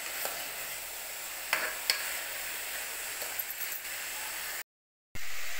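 Bamboo shoot curry (kalale palya) fries and is stirred in a pan. It gives a soft, steady sizzling hiss with a few sharp scraping taps, then a brief silent gap near the end.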